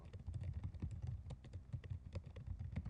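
Computer keyboard being typed on, a rapid irregular patter of soft key clicks, close and steady, with no voices.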